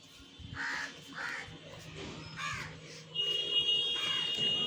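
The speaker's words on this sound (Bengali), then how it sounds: "এই কাকটা সমানে ডাকছে," A crow caws repeatedly outdoors as a storm wind begins over an empty street, several harsh, fairly close calls in an uneven rhythm over a steady background hum, with no talking.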